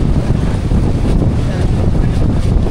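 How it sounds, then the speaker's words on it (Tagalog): Big sea waves and strong wind buffet a boat heading out in stormy conditions, a loud, dense roar of rushing air and water with heavy microphone wind noise throughout. "Laki naman ng alon."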